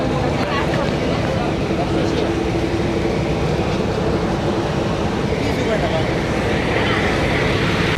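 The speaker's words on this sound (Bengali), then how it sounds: "আমরা এখন ট্রলারের ভিতরে আছি।" Inside a crowded passenger trawler heading out to an island, a steady engine drone and rushing water noise continue for the whole stretch, with voices murmuring beneath it.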